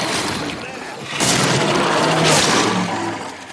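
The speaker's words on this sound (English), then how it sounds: "get my shotgun." A shotgun fires twice in the horror video game The Sinking City, each shot a loud broadband blast about a second apart over constant game noise, with a voice heard in the mix.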